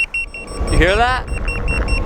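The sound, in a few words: remote control beeping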